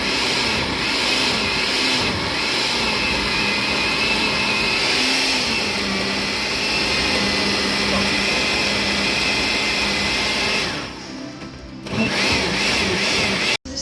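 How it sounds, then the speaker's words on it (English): A blender whirs loudly and continuously for several seconds blending thick Trinidadian green seasoning, its motor pitch wavering as the load thickens, then briefly cuts out and restarts. "what he's actually doing is adding the seasoning little by little to the blender"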